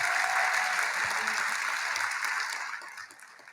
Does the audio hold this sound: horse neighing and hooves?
no